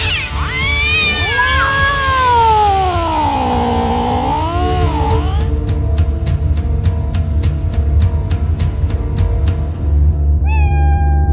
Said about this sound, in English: If you hear the meow, it's already too late.